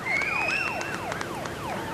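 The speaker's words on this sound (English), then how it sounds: "You hear the sirens outside." Wailing police sirens rising and falling in quick repeated sweeps, fairly loud and close, with a steady background rumble.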